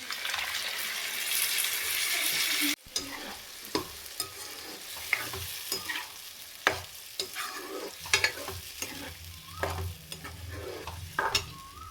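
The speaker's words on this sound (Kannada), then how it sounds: "ಈಗ ರುಬ್ಬಿ ಇಟ್ಕೊಂಡಿರೋ ಅಂಥ ಮಿಶ್ರಣನ ಇದಕ್ಕೆ ಹಾಕ್ಕೊತಾ ಇದ್ದೀನಿ" Ground masala paste for green chilli chicken hits hot onions and chilli in a pan with a sharp sizzle, then crackles softly while a spoon scrapes and stirs in repeated knocks and clacks, no one speaking.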